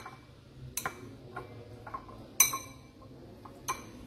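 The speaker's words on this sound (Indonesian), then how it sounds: "Kita aduk biar dia jangan menggumpal ya guys." A spoon stirring a mixture in a bowl for lomie noodles, a few sparse sharp clinks and taps against the bowl, close and fairly faint, with quiet gaps between strokes.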